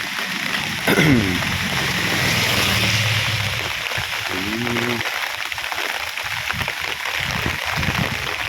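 Heavy rain during Cyclone Fengal, a dense constant roar of rain pouring down on a street, loud and close throughout, with a brief throat-like vocal sound and a couple of low hums near the start.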